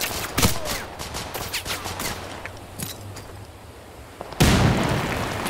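Grenades and gunfire in the war game Total Conflict: Resistance, several sharp blasts and pops scattered over the first seconds, then a heavy close explosion near the end, loud with a rumbling tail.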